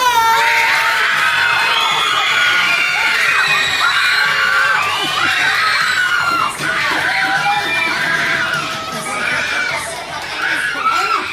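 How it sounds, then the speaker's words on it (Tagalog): Team members clap and shout at a child's seventh birthday party, a loud, dense mix of yelling, high children's voices and cheering that keeps going for over ten seconds with a brief dip midway. "Ken, pakinggan mo yung palakpakan at sigawan ng Team B natin."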